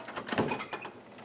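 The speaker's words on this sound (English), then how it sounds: "The door is a little bit of a slow release." A room door in a wheelchair-accessible hotel room swings shut on a slow-release hinge, giving a short series of soft knocks and a faint rubbing creak close by, with no talking.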